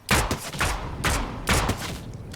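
Fortnite video game gunfire, several loud bursts of shots in quick succession with short gaps between volleys, close and sharp.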